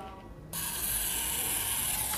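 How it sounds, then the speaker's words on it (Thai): A Topcon Unirex 35mm SLR film camera being cocked, a sudden close mechanical ratcheting rasp that starts after a brief quiet moment and runs steadily to the end. "ดึงขึ้นชัตเตอร์"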